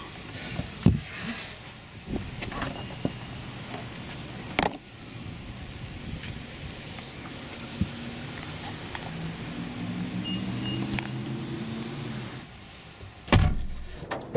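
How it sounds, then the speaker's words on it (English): A Toyota RAV4 rear door is unlatched and opened, with clicks and thumps of the latch and door over a quiet car interior hum, ending in a louder knock near the close. "So when I move this lever and hold it, I will be able to open the door."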